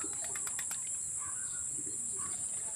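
Homing pigeons returning to their loft, a short burst of rapid wing flaps near the start followed by quiet coos and faint chirps, with a constant high electronic whine in the background.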